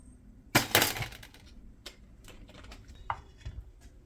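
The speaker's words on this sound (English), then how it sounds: "now I'm adding in the 4 eggs" Four eggs are cracked into a mixing bowl for a chocolate chip carrot cake. Close, crisp taps and shell cracks come in a quick cluster, followed by scattered lighter clinks against the bowl.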